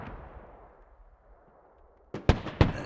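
Gunfire in the tactical shooter game Squad during an infantry fight on a compound: a low fading rumble, then three sharp, loud shots in quick succession near the end.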